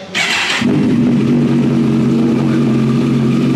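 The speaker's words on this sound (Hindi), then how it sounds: "तो साउंड यहाँ से मैं इसको ऑन करने वाला हूँ, ये देखिए।" A starter whirs briefly, then a powerful superbike engine catches and settles into a loud, steady idle rumble close up.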